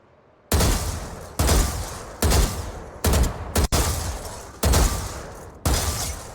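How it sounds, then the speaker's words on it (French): Gunfire from shooting practice in the video game Valorant, with seven loud, evenly spaced shots, each a sharp blast followed by a short ringing tail, alone with no talking. "vous entraînez à tirer sans toucher les murs pour one shot"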